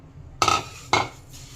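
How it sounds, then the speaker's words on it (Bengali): A utensil scrapes twice against a frying pan as raw moong dal is stirred while dry-roasting, two short close strokes about half a second apart, with no talk. "এটা এরকমভাবে নাড়তে, মুগের ডালটাকে এভাবে নাড়তে হবে।"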